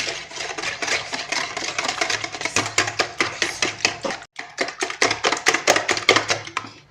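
Sugar, oil and milk for a caramel and coffee cake batter being whisked together in a bowl, with quick, steady rhythmic clicking strokes continuing throughout and one brief pause partway.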